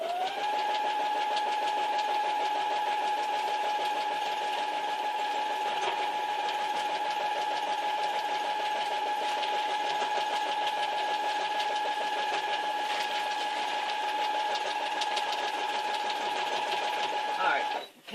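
A sewing machine stitching a quilt made of newspaper runs in one steady, close, humming whir for most of the clip, stopping abruptly at the end.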